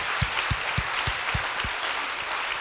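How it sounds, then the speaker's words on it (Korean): A church congregation claps together in a steady rhythmic beat at a prayer meeting, about ten firm claps in quick succession, fading slightly toward the end. "이때는 박수 쳐야 돼요. 주님 앞에."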